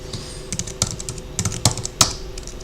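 Rapid clattering keystrokes on a computer keyboard during an Apple M0110 USB conversion, a close, uneven burst of clicks with a few heavier strikes, no voices.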